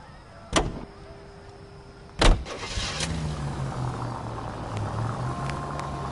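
A car in LA Noire: two loud door thumps, then the engine starts and settles into a low, steady idle hum, close up with no talk over it.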